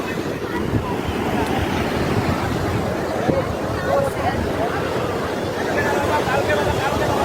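Sea waves wash continuously onto a beach at night, a broad steady surf roar with wind buffeting the microphone and a background murmur of people talking nearby.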